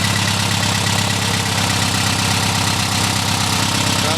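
1961 VW Beetle engine idling near 1400 RPM while the new cam breaks in, a loud, close, steady air-cooled putter with a rapid even rhythm and no voices.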